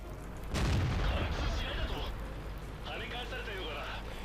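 A single heavy tank cannon shot in World of Tanks booms close and loud, followed by a rumbling decay and a fainter metallic ring from the tier-8 Chinese premium tank 112.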